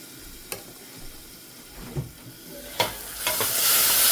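Dal tipped into a hot pan for Gujarati dal, giving a spreading sizzle and frying hiss with a few stirring clatters, building louder toward the end, with no talk over it.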